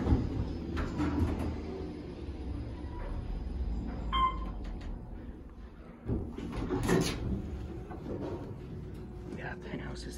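An Otis traction elevator door slides shut in the Kimpton Onyx Hotel in Boston, a soft rumbling glide under steady background noise while people talk nearby.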